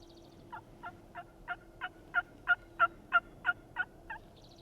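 A big wild turkey gobbles in a run of about eleven quick, rising-and-falling calls, moderately distant and clear over a low steady background hum, on public land during a spring hunt.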